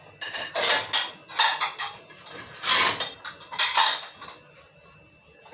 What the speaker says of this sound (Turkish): Makineyi, makineyi boşaltalım beraber sizinle.